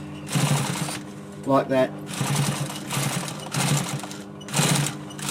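A sewing machine top-stitches a fabric chair arm cover in uneven bursts, close and moderately loud, while a person talks over the stitching.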